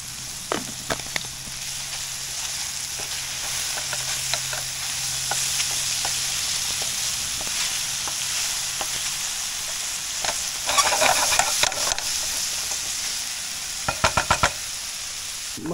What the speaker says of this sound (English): Now add in our celery and garlic.